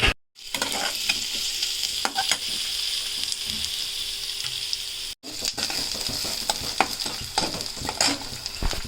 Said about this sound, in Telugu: కొంచెం కరివేపాకు వేసుకుని బాగా ఫ్రై చేసుకోవాలి.